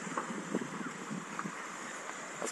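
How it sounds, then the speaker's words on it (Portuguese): Strong wind buffeting at a river boat landing, a steady breathy rush with faint water movement, fairly quiet and without talk. "tá ventando bastante."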